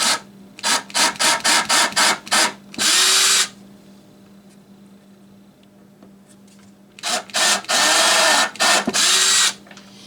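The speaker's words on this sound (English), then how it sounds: "Drill a little pilot hole." A power drill drilling a small pilot hole for rivets whirs in short repeated bursts, then longer runs, close and loud, with a faint steady hum underneath.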